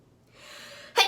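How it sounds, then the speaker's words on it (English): A single short sneeze bursts out after a brief rising inhale, close and sudden, from a woman in the middle of an eyeshadow tutorial. "I'll have to sneeze."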